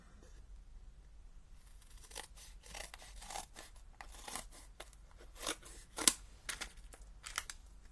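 Scissors snip through a foam adhesive sheet for card making, a run of sharp crunchy cuts at close range, with one especially crisp snip partway through and no talking.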